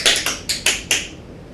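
Tap dance time step with an extra heel drop: five bright, close tap shoe clicks in a quick syncopated burst, then a short fade to quiet, with no voices.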